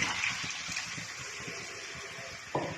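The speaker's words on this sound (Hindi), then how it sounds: "अब इसमें मैं तकरीबन 1 गिलास पानी डालूँगी" About a glass of water is poured into a pan of dum aloo curry, making a brief, soft, faint splashing gush with a small sharper splash near the end.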